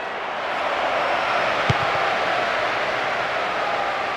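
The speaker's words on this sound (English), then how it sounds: "Crowd calling for him to shoot." Stadium crowd in the PES 6 football video game, a steady broad roar building as the crowd urges a player to shoot, with one brief thump partway through.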